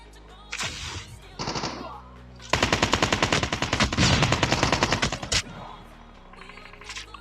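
Gunfire in the mobile game Call of Duty Mobile Battle Royale: a few short bursts, then a sustained rapid automatic volley lasting several seconds, loud and close.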